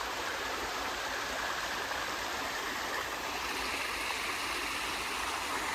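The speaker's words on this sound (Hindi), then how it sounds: "ये ऊपर पहाड़ है, वहाँ से पानी आ रहा है और यहाँ ख़त्म हो रहा है।" A mountain stream runs down from the hills through a forest near Ufa, Russia, producing a steady, full rush of flowing water that stays constant and nearby, with no voices.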